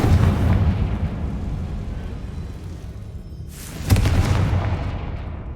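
A Confringo fire spell bursts in Hogwarts Legacy on PlayStation 5, a rumbling roar of game noise swelling into a sharp, loud blast near the four-second mark that then rolls on and fades.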